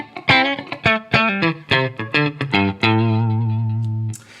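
A Strat-style electric guitar on its single-coil pickup plays clean, undistorted rhythm: a series of short plucked chords and notes, ending on a sustained low chord that rings for over a second before cutting off.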